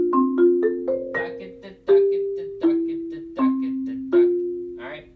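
Mallet percussion playing a steady run of sixteenth notes accented in groups of three, a dozen or so ringing strikes with a regular recurring louder attack, close and clear with no talking.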